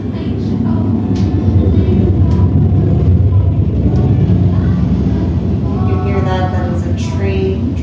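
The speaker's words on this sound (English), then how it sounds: "That is a train driving by." A train rumbles past outside a yoga class, a loud steady roar with low rumble and faint squeals, continuous throughout.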